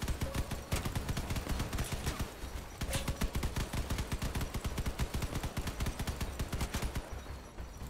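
Rapid mechanical gunfire from a spider tank's multiple guns in a video game, a dense, continuous stream of loud shots with rhythmic stomping underneath, sustained throughout with a brief lull near the start.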